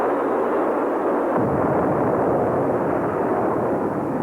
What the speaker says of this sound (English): Liftoff at 34 minutes after the hour.